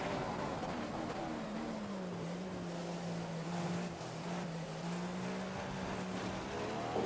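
Formula 1 racing cars in a video game lapping the Monza circuit, one running in the slipstream of a Ferrari, with a steady high engine whine that shifts in pitch through gears and continues without a break.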